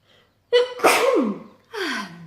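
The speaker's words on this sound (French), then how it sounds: "J'ai envie d'éternuer, excusez-moi." A loud, close sneeze: a sharp breath in, then an explosive burst, followed by a shorter trailing vocal exhale.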